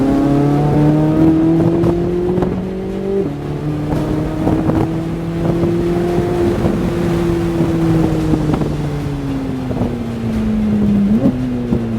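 A Corvette Z06 engine accelerating on a race track drones loudly and steadily, its pitch climbing and easing through the gears with a short dip near the end, buffeted by wind noise.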